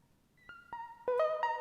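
A bright synth lead plays a short run of plucked notes, rising and layering with an echo-like tail, fairly quiet and alone.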